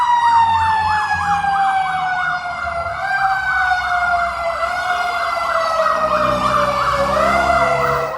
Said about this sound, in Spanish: Así le hizo las ambulancias tipo bomberos aquí, porque es como roja como los bomberos.